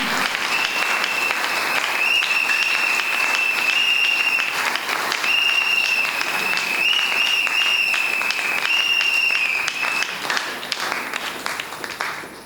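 A church congregation at a worship and thanksgiving service claps loudly and continuously, the dense applause steady from start to finish with a sustained high tone running over it.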